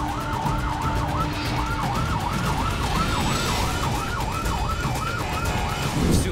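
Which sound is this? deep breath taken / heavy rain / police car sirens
police car sirens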